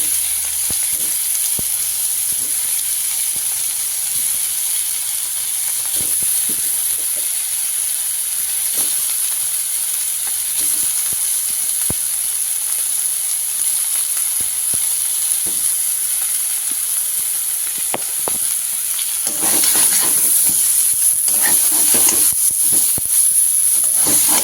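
Cauliflower florets fry in hot oil in a pan, making a loud, continuous close sizzle with scattered crackles and pops that grow more intense near the end.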